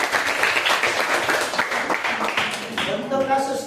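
A class group of students bursts into a short round of applause, dense clapping close by that tapers off after a few seconds, with voices mixed in.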